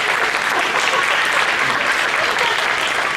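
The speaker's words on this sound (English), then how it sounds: "Could I have a show from the audience by applause that I never touched Gage?" Audience at a magic and dinner show breaks into steady, dense applause, loud and close throughout, with no talking over it.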